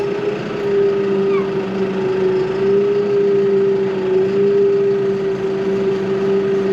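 A Farmtrac 9120 DTV, a large tractor, drives along with a loud, steady engine drone that holds one even pitch throughout.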